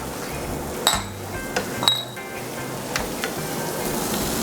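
Finely minced garlic hitting a hot pan for shrimp risotto with green onion, a steady soft sizzle with a few sharp clinks of a utensil against the pan.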